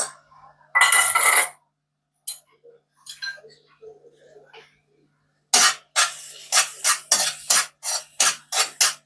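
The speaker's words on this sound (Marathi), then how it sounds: "आपल्याला या तुपावरती परतून घ्यायची." Smashed bananas sautéing in hot ghee in a pan, heard as a short sizzle followed by a run of close, rhythmic scraping and clinking strokes of a spatula against the pan.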